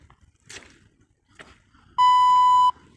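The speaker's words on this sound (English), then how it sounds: "Another beep then." Soft scrapes and rustles, then a single sustained electronic beep, loud and clear, lasting under a second.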